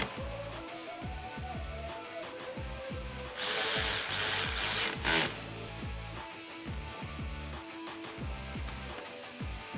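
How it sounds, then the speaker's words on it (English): A ratchet with a 10 mm socket tightens the bolts on a RAM 1500 LED headlight housing, giving rapid, quiet clicking in repeated runs, with a brief louder rubbing burst midway. "Now I can just take my 10 millimeter socket on my ratchet and tighten things down"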